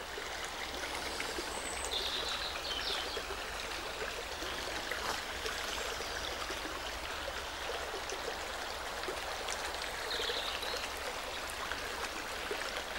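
A cold stream flows beneath the stone arches of a viaduct, with a continuous, even rush and trickle of running water close by that goes on without talk, and faint bird calls are heard now and then.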